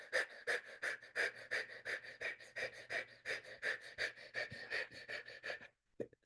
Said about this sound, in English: Pucker the lips and begin breath of fire through the mouth.